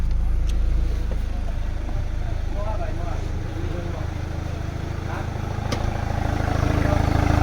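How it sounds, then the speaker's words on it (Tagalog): A Chevrolet Captiva engine idles steadily with a low rumbling drone throughout, fairly close, while someone talks over it; the car had trouble starting after a subwoofer install. "umaandar na ang makina natin"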